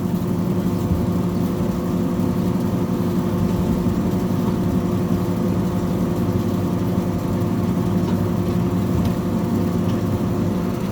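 The oil burner of a grain dryer running: a steady low rumbling roar drones evenly throughout, loud and continuous with a mechanical hum, no speech.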